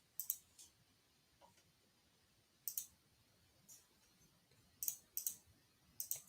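Computer mouse clicks come as sharp, faint, isolated taps spread irregularly, a single click followed later by quick pairs, over a quiet room background.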